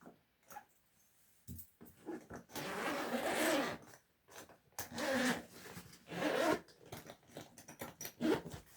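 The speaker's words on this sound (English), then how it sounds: "Okay, so that's how far the zips extend." Zips on Triumph nylon motorcycle panniers being pulled open, several long rasping zip runs in bursts with short pauses, close and fairly quiet, no talking.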